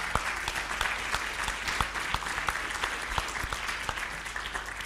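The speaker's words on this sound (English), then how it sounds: "Give them a round of applause," An audience applauds panelists at a closing plenary session, a steady spread of clapping with some sharp individual claps standing out, moderately loud and continuous.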